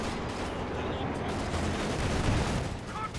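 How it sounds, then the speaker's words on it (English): Grenades explode amid the rumble of battle in the strategy game Company of Heroes 2, a dense, continuous wash of booms and gunfire at low level with no clear single blast standing out. "Grenades going off"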